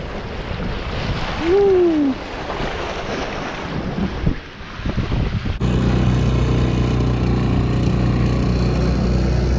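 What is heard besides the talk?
ocean waves and wind while a dinghy surfs along a reef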